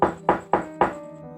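Four quick knocks on a bedroom window, used as a sound effect in a narrated story, sharp hollow thuds in an even rhythm, heard close and alone before the ring fades.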